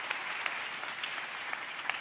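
A church congregation claps during a pastor's message, a soft, continuous patter of many hands with a few sharper individual claps standing out.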